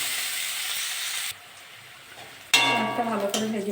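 Onions go into hot oil that already holds fried bay leaf and whole cumin, for a pointed gourd and potato dish. A steady hiss briefly dies down, then bursts back louder with a ringing, crackling sizzle.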